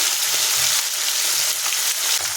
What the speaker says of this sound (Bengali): অল্প অল্প করে মাছগুলো ভেজে নেব